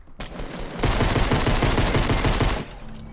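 Rapid automatic gunfire in the Fortnite video game, a loud sustained burst of densely packed shots lasting a couple of seconds before cutting off, with brief softer game sounds around it.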